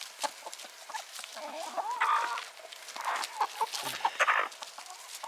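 Several backyard hens cluck in short, irregular bursts close by, mixed with soft rustling and movement.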